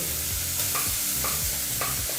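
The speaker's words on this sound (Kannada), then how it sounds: "ಈರುಳ್ಳಿನ ಫ್ರೈ ಮಾಡ್ಕೋಬೇಕಾದ್ರೆ ಮೀಡಿಯಮ್ ಫ್ಲೇಮಲ್ಲಿ ಫ್ರೈ ಮಾಡ್ಕೋಬೋದು" Onions for a broken-wheat khichdi fry over a medium flame in a pan, making a loud steady sizzle with a spoon repeatedly stirring and scraping in an even rhythm.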